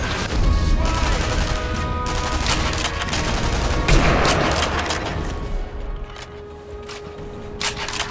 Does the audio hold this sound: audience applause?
no